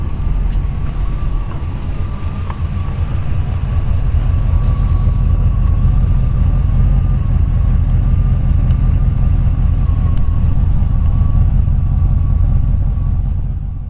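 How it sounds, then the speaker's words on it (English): A 1940 Ford Deluxe Woody Wagon idles at low revs, a steady, loud, low-pitched engine burble with a faint constant whine on top that runs unbroken throughout. "It only idles about 600–700 RPM. I actually let you hear it run a couple times."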